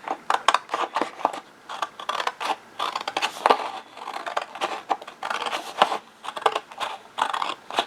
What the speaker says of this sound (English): We're going to cut this bottom piece off.